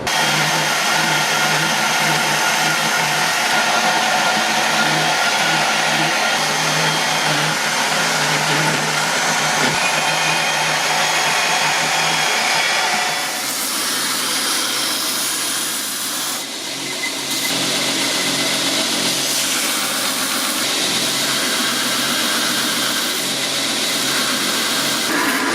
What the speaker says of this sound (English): head over to the bandsaw, and start getting this thing cut out